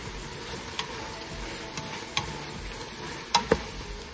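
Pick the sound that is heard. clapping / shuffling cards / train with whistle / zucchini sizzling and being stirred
zucchini sizzling and being stirred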